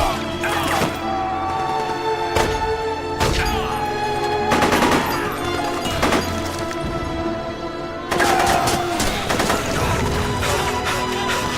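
Gunfire in the Metal Gear Solid 4 video game, loud repeated bursts of shots and heavy booming impacts over a constant droning game soundtrack, fairly close and dense throughout.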